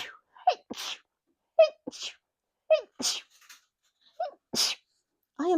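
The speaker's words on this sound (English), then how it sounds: "I'm gonna sneeze, guys." A man sneezes loudly and close up in a quiet room, several sharp bursts in a row with short sniffs and gasps between them, and no talking.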